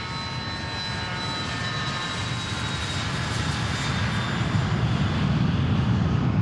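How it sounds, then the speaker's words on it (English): A Cessna Citation Latitude private jet departs Boeing Field, its steady turbine whine and broad roar swelling louder and deeper as it powers away, with no voices. "But there they go. And that is that's a Citation latitude as well."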